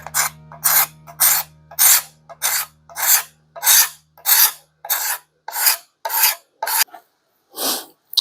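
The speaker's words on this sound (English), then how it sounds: "Just scraping it right off." A scraper is dragged over an old vintage brass hammer to strip the paint, making about a dozen rasping strokes in a steady rhythm, loud and close with short pauses between them.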